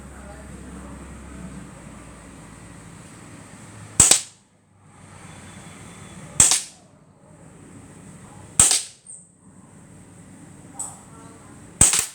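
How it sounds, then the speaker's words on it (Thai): An ARMY R29 air rifle fired at a pin 10 metres away gives four sharp, loud cracks a couple of seconds apart over a low, steady background hum. "มาชมว่าเราจะยิงเข็มหมุดได้ไหม"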